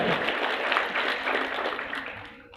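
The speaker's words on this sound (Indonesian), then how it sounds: "Berikan aplaus meriah untuk Bapak dan Ibu semuanya." An audience at a motivational seminar claps in a lively burst of applause that holds briefly and then fades away.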